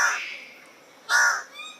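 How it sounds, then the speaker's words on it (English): A blue bird of paradise, a species of Papua New Guinea, gives two harsh, crow-like calls close to the listener, separated by a short pause. "Bluebird of Paradise live in Papua New Guinea."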